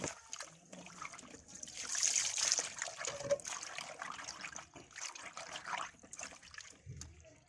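Cut fish pieces are rinsed by hand under running water, with a close, steady trickle and dribble broken by small splashes and swishes as the pieces are handled.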